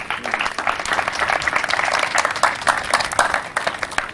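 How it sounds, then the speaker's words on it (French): Sustained applause from an audience at an NGO community event in Port Bouet, dense, lively clapping heard up close and holding at a steady level throughout. "par des applaudissements nourris."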